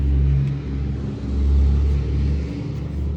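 A car rumbles past close by, its low engine noise swelling and easing over a few seconds, steady and fairly loud with no voices.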